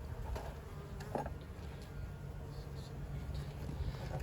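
Honey bees buzzing around an open 8-frame hive during an inspection, a faint steady drone with scattered wingbeat whines drifting near and away, low in level, with no talking.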